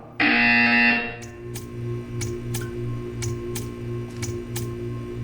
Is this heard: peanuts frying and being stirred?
no